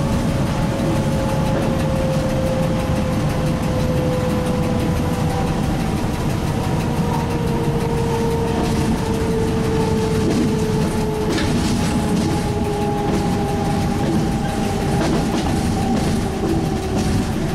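A Z 5300 commuter train between Paris and Rambouillet runs at about 120 km/h toward a station, heard from the cab as a loud continuous rumble with a steady motor whine and faint rail clatter.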